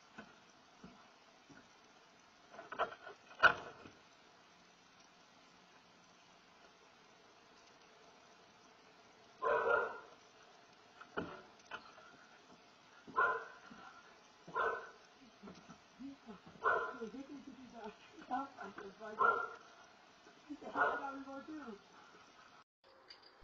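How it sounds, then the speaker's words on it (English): A frightened-off intruder at a locked front door sets off a dog barking at a home, a series of sharp barks in bursts spread across the recording, moderately loud from indoors with quiet gaps between. "is frightened away by barking dog"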